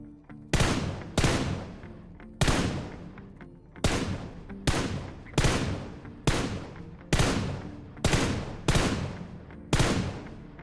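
Gunfire in the mobile battle royale game BGMI, tap-fired as roughly ten sharp, loud, separate shots at uneven intervals, each with a short ringing tail, with no talking.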